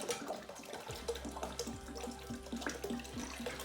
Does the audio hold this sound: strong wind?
no